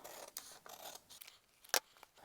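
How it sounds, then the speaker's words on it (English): Scissors snip away excess glued paper from a junk journal page in a few short, crisp cuts, with one sharp louder snip near the end, close and alone. "I will just cut the excess off."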